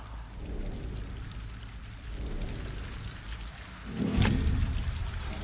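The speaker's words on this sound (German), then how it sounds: "Ich höre Wasser." Steady pouring water in a video game, with a soft, rain-like hiss, growing louder and splashier near the end.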